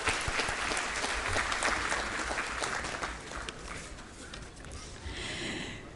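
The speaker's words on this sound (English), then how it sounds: "A big round of applause to the team AIOS." Audience applause for a medical association team at an award function, a dense steady burst of many hands clapping that thins and fades toward the end.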